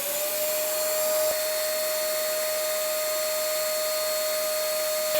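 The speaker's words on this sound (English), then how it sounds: "I'll take another sound test of this old vacuum" An old shop vacuum runs continuously with a loud, steady whine and a sharp constant tone over broadband airflow roar, heard up close in a workshop with no speech.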